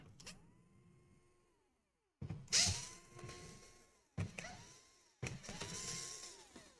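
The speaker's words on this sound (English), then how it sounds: "So we wanna unscrew every single screw here." Small screws are backed out with a screwdriver from a Lenovo Legion Y540-15IRH laptop, giving repeated mechanical ratcheting and creaking bursts in close, separated runs.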